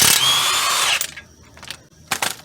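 Power tool whirring loudly for about a second while loosening the 17mm brake caliper bolts on a Honda Accord, followed by a few short ratcheting clicks and rattles of the tool nearby.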